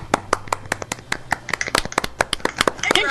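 Quick, uneven clapping of hands from a few podcast hosts close to the microphone, a short burst of sharp claps with no words spoken.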